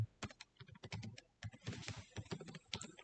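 Quiet bursts of typing on a computer keyboard while entering a JavaScript prompt, irregular clusters of crisp key clicks with short pauses, close and alone without talk.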